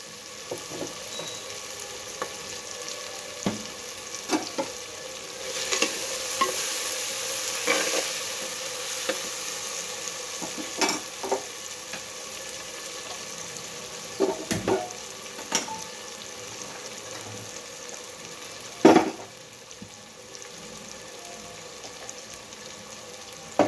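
Fenugreek seeds tempering in hot oil for a cabbage and moong dal curry, a steady soft sizzle with intermittent stirring scrapes and clinks throughout, no talking.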